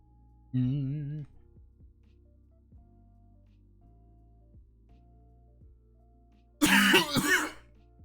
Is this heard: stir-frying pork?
no